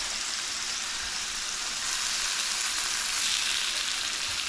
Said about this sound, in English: sear in the meat.